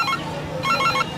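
A mobile phone rings with repeated bright electronic tone bursts, a short pattern, a pause, then the pattern again, loud and close with no talking.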